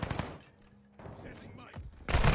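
Gunfire in a shooter video game, a short burst of rapid shots at the start and another loud burst at the end, with a quiet stretch between.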